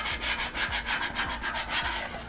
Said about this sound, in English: take our scraper and just kind of dig in on those and just kind of get anything off the surface that we can